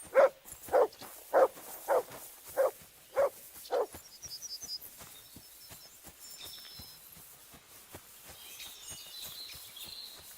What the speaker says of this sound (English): Good dog, Mutz. Show me